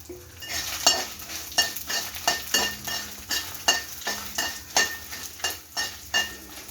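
Dry red chillies, coriander seeds, fennel, a piece of cinnamon and cloves roast in oil in a pan, a spatula scraping and stirring in a steady rhythm of repeated strokes over a low sizzle, close and fairly loud.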